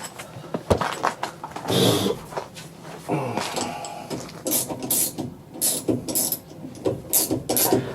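A ratchet wrench tightens bolts on a Dodge Dart suspension hanger in a garage, giving irregular bursts of quick clicking with metallic clanks and handling noises in between.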